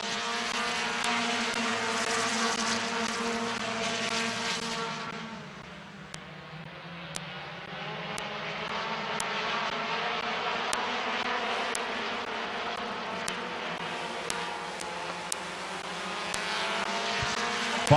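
Stock cars roar around the Midvale Speedway short track during a fall classic race, a loud, continuous wall of engine noise that swells and dips slightly over the whole stretch, with no talking.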